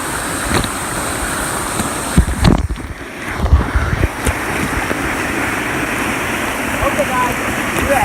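A powerful waterfall with a strong current roars steadily and loudly throughout, a dense unbroken wash of rushing water, with brief splashes and bumps midway and voices partly buried beneath it.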